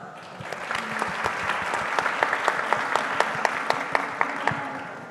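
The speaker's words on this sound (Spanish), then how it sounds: "Un aplauso" A panel audience at a Colombian animation and new media event applauds with a steady patter of many hands, rising slightly then holding, fairly close and without speech over it.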